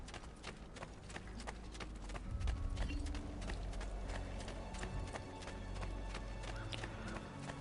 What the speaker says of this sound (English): We're gonna grab a horse.